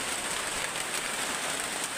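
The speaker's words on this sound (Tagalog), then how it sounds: "Pahamak talaga tong ulan guys, no? So lagi na lang ano, umuulan." Rain falling outdoors where people shelter from it, a faint, steady hiss of drops on surfaces with no talk.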